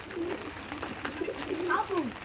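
A pigeon of the Pakistani Chotiyal breed coos close by in a few short, soft throaty calls. A low hum sits underneath.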